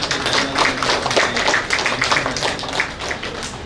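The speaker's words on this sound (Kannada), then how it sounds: "ನಾನೊಂದು ತುಂಬ ಧನ್ಯವಾದದೊಂದಿಗೆ ಕೈ ಚಪ್ಪಾಳೆ" An audience at the opening ceremony of diploma and vocational training classes at a fire and safety engineering institute bursts into sustained applause, a dense steady patter of many hands at moderate loudness with no talking.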